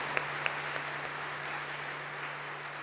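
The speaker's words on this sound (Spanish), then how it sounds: "Fuerte el aplauso al Señor" Faint, steady applause fills the room at a Christian worship trova concert, a dense, even patter heard from a distance with a few sharper claps near the start.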